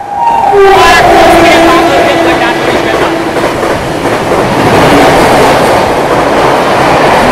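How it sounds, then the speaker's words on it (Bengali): Vivek Superfast Express train passing through Dankuni station, loud and close, with a horn blast at the start and then a continuous roar and rattle of wagons rushing by. "ডানকুনি স্টেশনে 3 নম্বর প্ল্যাটফর্ম থেকে একটা এক্সপ্রেস ট্রেন পাস হচ্ছে"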